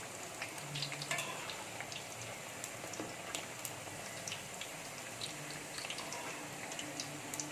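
Little millet thattu vadai frying in hot oil after being turned, a steady, faint bubbling sizzle with scattered tiny crackles and pops throughout, continuous and uninterrupted by speech.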